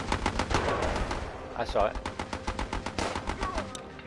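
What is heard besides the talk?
gun turret firing in video game Battle Island Commanders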